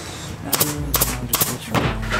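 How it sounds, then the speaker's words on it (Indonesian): Nail gun driving nails into 18 mm melamine plywood, giving several sharp close pneumatic shots in quick pairs, with a low hum between them. "Di sini kita menggunakan paku tembak"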